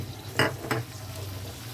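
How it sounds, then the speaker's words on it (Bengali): Tomatoes go into a pan of frying onion and capsicum, with two quick stirring scrapes cutting through a low, continuous sizzle. "টমেটোটা দিয়ে জাস্ট একটু নাড়িয়ে নেবো আমি"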